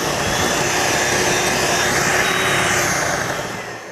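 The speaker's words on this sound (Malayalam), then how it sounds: "ഇതൊന്നുകൂടി ബീറ്റ് ചെയ്തെടുക്കുകയാണ്" An electric beater whips chocolate cake batter, giving a steady, loud, continuous whirring drone close by that holds for a few seconds before easing slightly at the end.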